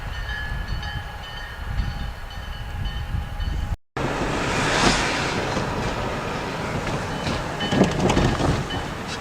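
A lone railroad locomotive clearing snow and ice off crossings after a snowstorm passes nearby. Steady horn tones sound first, then a loud, rumbling roll with rattling wheel noise as the engine goes by.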